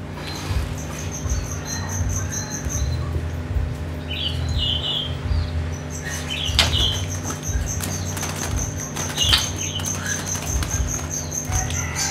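A white-rumped shama, just bathed, gives bright whistled calls and chirps in short bursts, fairly close, over a steady low background hum.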